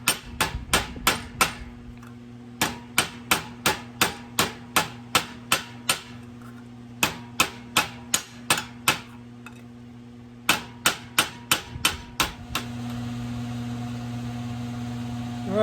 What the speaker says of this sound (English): It's about time I put a new handle on this cheap metal hammer.